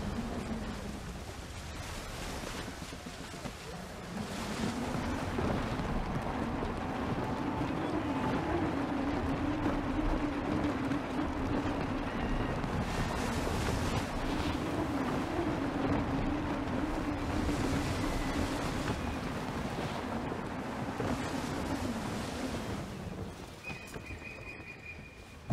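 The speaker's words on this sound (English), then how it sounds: "Wind looks to be shifting. Stay alert, Connor. Gusty winds can be difficult to manage." Gusty wind at sea around a sailing ship in Assassin's Creed III blows as a steady, loud, broadband rush, with a low droning undertone that swells and holds for most of the stretch.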